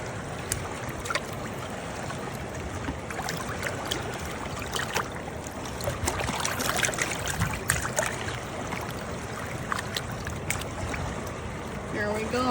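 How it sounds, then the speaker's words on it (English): Water splashes and trickles steadily while a catfish fillet is rinsed at a riverside camp, a continuous close wash of running water with no voices. "I'm gonna wash this fillet off now."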